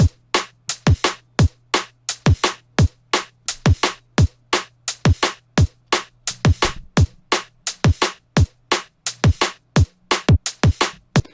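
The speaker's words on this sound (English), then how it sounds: "that drum loop sounds like this" A simple looping drum pattern of punchy kicks and crisp snares and hats, steady tempo, clear and alone with no talking.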